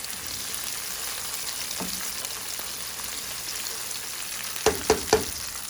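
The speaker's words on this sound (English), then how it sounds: "I'm gonna saute these" Food being sautéed in hot oil, a steady close sizzle with a few scraping stirs, then three sharp pops near the end.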